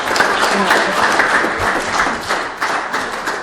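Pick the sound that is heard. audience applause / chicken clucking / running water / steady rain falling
audience applause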